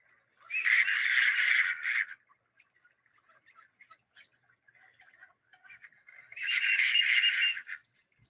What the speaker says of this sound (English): you got this big male that just kind of squeaks a little bit